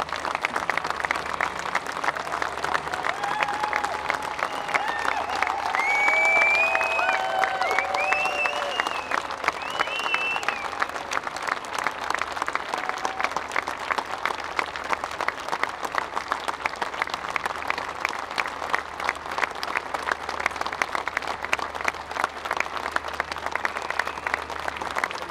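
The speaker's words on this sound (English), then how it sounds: "I'd ask you all to give a minute's applause" A large outdoor crowd at a water-charges demonstration in Dublin gives a long, steady round of applause, rhythmic clapping sustained throughout with a few voices and whistles rising briefly early on.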